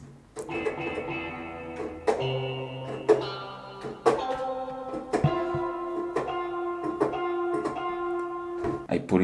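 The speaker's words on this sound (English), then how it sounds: "a funky guitar sound that sounded like this" A funky guitar part recreated for a beat plays clean, plucked chords and muted stabs in a syncopated rhythm, each attack ringing briefly before the next, up close and alone without accompaniment.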